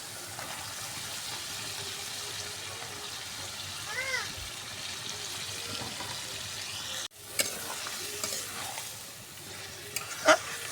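Goat meat goes into oil-rich masala and sautés in the pan. A steady sizzling hiss runs throughout, with a sudden sharp burst partway through and brief scraping afterward. A voice is heard faintly at times.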